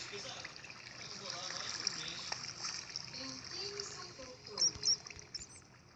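Water in Minecraft pours and trickles continuously at close range, with a few louder splashes near the end, under faint background talk.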